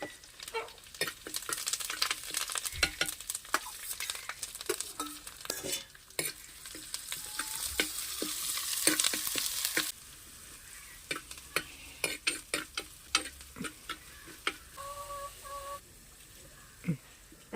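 Mustard seeds tempering with crushed ginger and garlic in a hot pan, a steady broad sizzle for the first ten seconds with scattered sharp pops and crackles, then quieter intermittent pops and stirring clicks.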